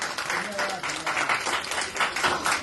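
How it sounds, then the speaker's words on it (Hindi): An audience at a poetry gathering gives another round of applause, dense clapping in uneven bursts, with a voice faintly present underneath. "एक और तालियां महेश जी के लिए।"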